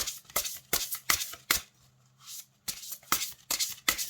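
Oracle cards are shuffled by hand for a card reading, heard as crisp, rhythmic riffling bursts that pause briefly midway before resuming, close and clear with no talk.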